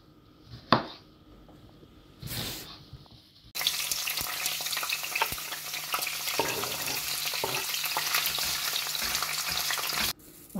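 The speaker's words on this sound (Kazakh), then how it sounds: "Болгар бурушын қуырып аламыз." Bell pepper sizzles in a hot pan as it is added to the oil. After a couple of short knocks, a loud, steady frying hiss runs for about six seconds, then cuts off abruptly.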